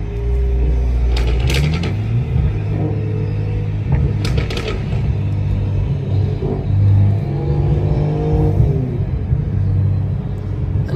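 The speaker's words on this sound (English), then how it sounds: "Boy Sticks about to send it with a new B58" A BMW M340i with the new B58 engine accelerates hard in a roll race, its loud, steady rumbling drone holding for the whole stretch, close by and with no voices.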